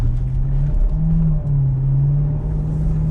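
A Corvette in track mode gives a deep rumbling exhaust note from inside the cabin, a low steady drone dipping briefly as the driver shifts or lifts, with no talking over it.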